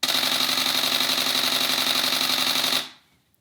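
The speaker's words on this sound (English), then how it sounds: "And you can shoot really fast photos in continuous mode. It's like a machine gun." A Canon 1DX Mark II fires a rapid continuous burst of shutter clicks, a dense, even machine-gun rattle up close that runs for nearly three seconds and then stops abruptly.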